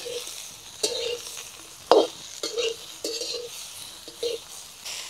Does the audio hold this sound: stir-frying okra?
yes